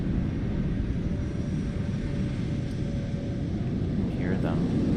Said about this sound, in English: There's a bunch of planes here.